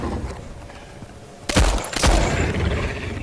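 Shotgun blasts in the dark first-person shooter Nether: two loud, close, sharp reports about half a second apart, each with a booming tail, rising out of a quiet, murky background.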